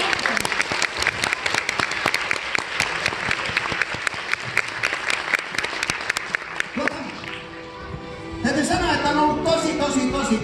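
A concert audience at a Hevisaurus show at Aleksanterin Teatteri applauds loudly and densely, and the clapping thins out near the end as other sound takes over.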